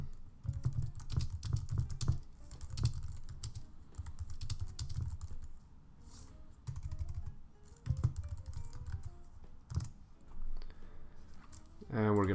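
Someone types on a computer keyboard in steady, close bursts of rapid key taps with short pauses between them, while placeholder text is written during mobile UI design work.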